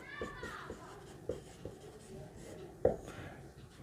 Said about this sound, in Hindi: ब्लू से ही लिखते हैं।